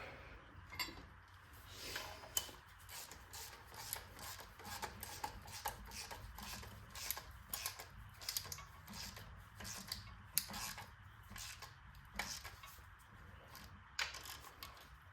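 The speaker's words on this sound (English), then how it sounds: "Now I'll tighten up this bolt." Bolt being tightened on a Pontiac accessory drive, quiet rapid ratchet clicks in irregular bursts, close and faint.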